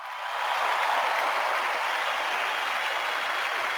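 Audience applause for a speaker at an online panel on digital nomads, a loud, smooth, continuous hiss of clapping that swells in quickly and holds steady to the end.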